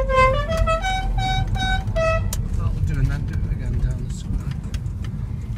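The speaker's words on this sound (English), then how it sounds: "Here goes the air horns." Musical air horns on a vehicle play a short tune of several rising and falling notes over a steady engine rumble on a road coming into Carmel, followed by traffic noise and distant talk.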